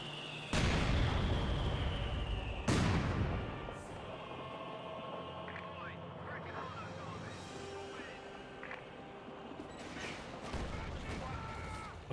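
Artillery rounds land in the strategy game Company of Heroes 2, two sharp explosive blasts early on and another burst near the end, with battle ambience and a commentator talking between them.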